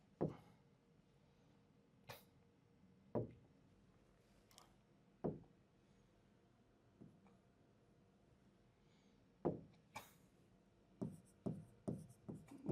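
Marker or chalk strokes on a classroom board during an accounting lesson, a series of short sharp taps and scratches spread out, then a quick cluster of strokes near the end, fairly close with no talk.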